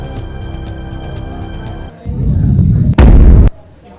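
Celebratory gunfire captured in news footage: a muffled rumble of crowd and activity, then a loud, heavy burst of shots near the end that drops off abruptly.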